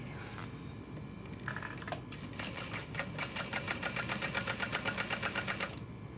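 A sewing machine stitches steadily after its bobbin, top thread and needle have been changed, setting up a fast, even run of mechanical clatter that grows busier midway and then stops, close and fairly loud with no talking.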